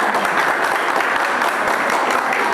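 Students clap in a classroom during a quiz session, a continuous, evenly loud patter of many hands from start to finish.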